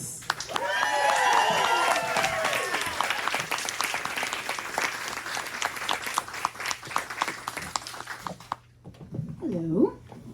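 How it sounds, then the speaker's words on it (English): A live audience at a storytelling show in Austin breaks into loud applause and whoops, peaking early and then tapering off into scattered clapping. A voice speaks over the noise near the end. "Please make some noise for Greer Sikes."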